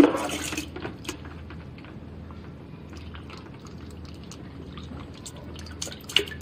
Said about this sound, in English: Add the pure water or the distinct water from the water inlet hole until the water is automatically coming out from the water overflow hole.